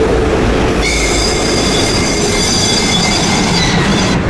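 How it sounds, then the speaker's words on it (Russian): Freight train rolling past close by, a loud continuous rumble with steady metallic wheel squeal and rail clatter throughout, no voices. "Товарняк проехал, да?"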